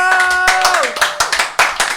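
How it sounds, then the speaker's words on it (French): A few people clap in short bursts at the end of a special radio broadcast, the claps sharp and close, breaking off between rounds while a sustained tone fades beneath the first half. "Ah ouais, on s'applaudit, ouais."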